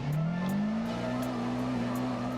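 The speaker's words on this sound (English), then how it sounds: "It's just the DDM engine sound." AE86 engine in the DDM drifting video game, a steady droning note rising slowly in pitch under held throttle, loud and close with a tire hiss behind it.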